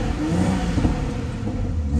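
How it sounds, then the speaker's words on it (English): A BMW X4 M40i in sport mode revs hard, its loud, steady engine roar rumbling up close throughout with no talk. "we'll give it a rev now"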